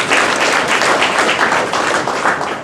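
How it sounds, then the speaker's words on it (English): An audience at a senior living community's unveiling event breaks into steady, close applause, a dense wash of hand claps that holds at full strength throughout with no talking on top. "Give yourself a applause"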